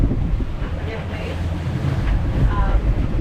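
A sailboat with its mainsail unreefed moves at about 8 knots through waves in the Bahamas, giving a steady rush of wind buffeting the microphone over water and surf noise, with no clear speech.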